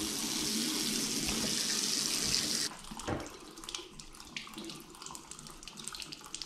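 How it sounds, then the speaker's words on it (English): Water runs steadily from a bathroom faucet in a house, a loud even rush that stops partway through, leaving quieter drips and handling sounds. "just turn the faucet on."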